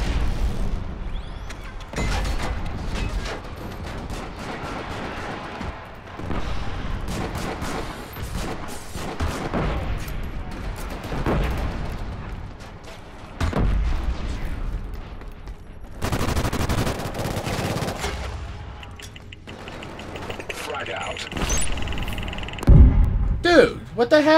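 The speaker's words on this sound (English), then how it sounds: "Heck, that grenade like followed me." A grenade goes off amid a chaotic multiplayer firefight in Killzone Shadow Fall aboard a cruiser, with constant gunfire, bursts and booms throughout and a sharp loud blast near the end.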